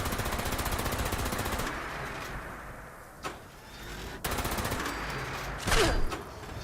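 Gunfire in the Fallout 76 post-apocalyptic video game: a steady, fairly quiet rattle of shots that breaks off, then resumes with sharp louder cracks toward the end.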